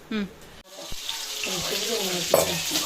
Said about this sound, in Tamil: மீன் வறுக்க வச்சாச்சு